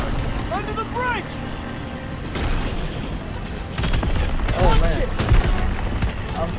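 Gunfire in a war-themed game is aimed at the players: scattered bursts of shots and heavy booms come amid engine rumble, while people shout over the action.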